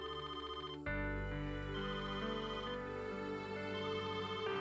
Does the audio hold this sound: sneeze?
no